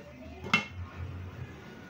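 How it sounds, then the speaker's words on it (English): A lid goes onto a pot of ogbono soup on the stove, giving a single sharp metallic clink, followed by a low simmering rumble. "I will now cover it to boil a bit before adding other things."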